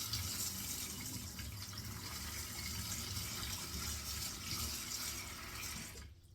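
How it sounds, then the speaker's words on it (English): A tap runs lukewarm water into a sink in a steady, broad, close gush that continues without a break, then cuts off abruptly at the end. "So I'll put water to this sink"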